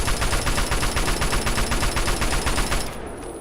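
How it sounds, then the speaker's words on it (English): Rapid, continuous gunfire from a weapon in the video game Fallout 3, a loud, dense rattle of repeated shots lasting about three seconds before cutting off sharply into quiet. "that a rocket launcher apparently?"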